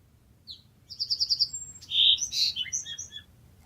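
Bird song in a radio drama: a short chirp, then a rapid run of five bright repeated notes, followed by louder warbling phrases and trills, close and clear over a faint low background.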